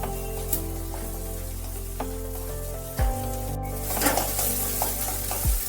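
Chopped onion, garlic and ginger stirred into hot oil in a kadai, a steady close sizzle with spatula scrapes and occasional metallic knocks against the pan, no voices.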